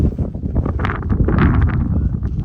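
A steady mountain breeze in the Cargo Muchacho Mountains roars across the microphone, a loud, continuous low rushing with slight swells and no voices.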